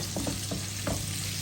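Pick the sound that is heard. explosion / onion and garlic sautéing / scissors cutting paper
onion and garlic sautéing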